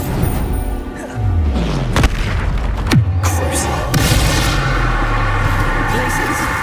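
Blast spell explosions in the wizarding video game Hogwarts Legacy, a series of loud booming bursts amid game combat noise with rumbling low tails, one sharp impact followed by a descending whoosh, while a voice shouts spell names.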